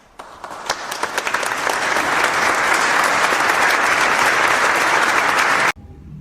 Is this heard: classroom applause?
yes